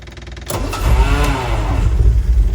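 A 1967 Sunbeam Alpine engine cranks briefly, then catches and settles into a steady, loud idle with a throbbing low rumble, close by and without any talk.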